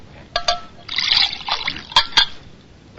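Water poured into a glass in an old radio drama, a short trickling splash lasting about a second between a few clinks of glassware, close and fairly quiet with no talk.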